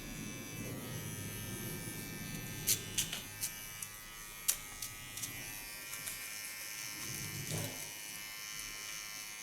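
An electric hair clipper trims a woman's short platinum blonde hairline with a steady close buzz, broken by several brief clicks and taps of the blade against the hair.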